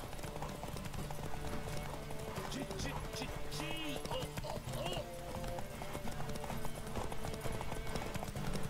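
Rhythmic hoofbeats of a horse clip-clopping along in The Witcher 3 horse races at Crow's Perch, with a brief whinny, under steady background music and game effects; a voice chatters in the mix.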